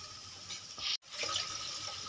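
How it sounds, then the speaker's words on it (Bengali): Water splashes steadily for about two seconds as it is poured into a pan of Bengali shol fish tel jhal over cooked spices, with a brief break partway through. "দিয়ে দেবো পরিমাণ মতন জল"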